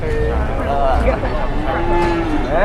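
Cattle moo loudly and close by at a cattle market, several overlapping drawn-out lows with a busy, noisy outdoor background.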